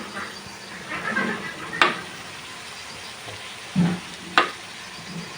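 Tomato dropping into a hot pan of corn for noodles, a soft continuous sizzle broken by two sharp clacks and a brief thud as pieces go in.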